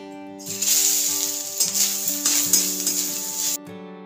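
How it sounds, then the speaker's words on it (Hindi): Grated coconut frying in ghee in a kadhai for modak stuffing, with a loud, close, steady sizzle broken by stirring scrapes and a spoon clinking against the pan, with no talking. "अभी नारियल को थोड़ा सा फ्राई कर लेना है"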